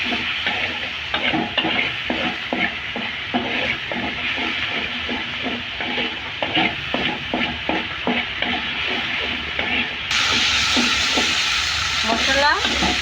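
Spice paste for a village fresh-fish curry fries in a pan, a steady crackling sizzle broken by regular scraping stir strokes, growing into a brighter hiss near the end.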